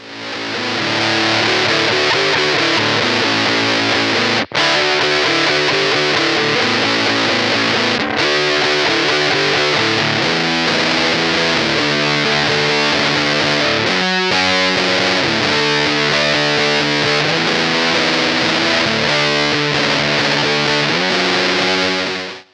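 A heavily distorted electric guitar roars through the thick, saturated fuzz of a Siva op-amp Muff-based fuzz pedal, playing sustained chords and riffs with a few brief gaps, loud and close.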